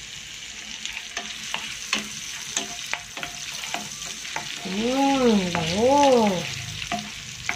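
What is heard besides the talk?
ginger sautéing in butter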